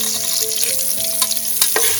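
Onions and cashews sautéing in a pan, a bright continuous sizzle with quick clinks of a spoon stirring against the metal, close and fairly loud, no voices.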